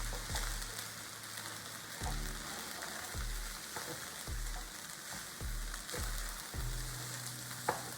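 Egg fried rice stir-fried in a pan with fish sauce just added, a steady loud sizzle broken by repeated rhythmic scraping and tossing strokes of the spatula, with no talking.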